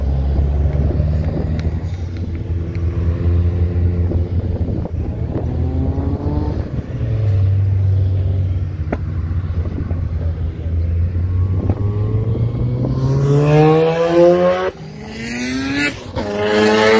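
A Toyota MR2 drives by in a car parade, its engine note rising through gear changes as it passes close and loud, with other car engines and wind buffeting around it.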